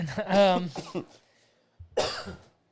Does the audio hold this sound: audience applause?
no